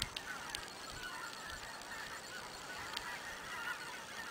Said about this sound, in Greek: Όπου και να κοιτάξεις τον ουρανό είναι εκατομμύρια χήνες.